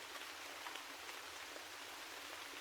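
Steady rain falls in a dense, even hiss, soft and continuous with no other sounds.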